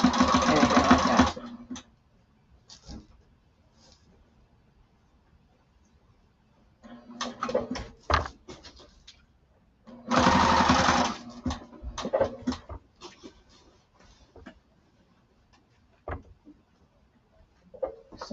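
A sewing machine stitches thick duffle bag lining in a few short, slow bursts, with quiet gaps between them filled by faint handling clicks and rustles.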